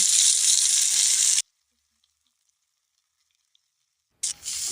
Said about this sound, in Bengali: সেই মাছটা দিয়ে দিলাম কড়াইতে। ভালো করে এপিট ওপিট করে ভেজে নেব।